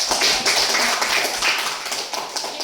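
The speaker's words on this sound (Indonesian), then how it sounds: "Silakan tepuk tangan dulu buat" A classroom of students claps for a group that has just finished presenting, giving a dense, lively burst of close hand clapping that holds steady and then thins slightly toward the end.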